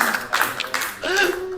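An audience at an Indonesian civil-servant training event gives a few brief, scattered claps. The claps sit close and moderately loud under a speaker's ongoing voice.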